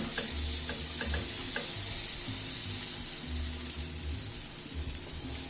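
Butter sizzling and bubbling under a pancake in a hot pan, a continuous bright frying hiss with a few light scrapes and taps, close and steady.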